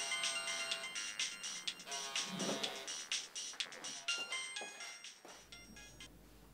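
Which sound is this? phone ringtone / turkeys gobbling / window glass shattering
phone ringtone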